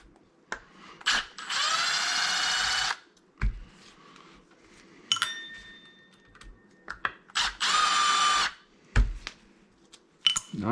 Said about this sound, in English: So go ahead and loosen all those. We'll go from there. Okay, so we'll just continue taking these screws out.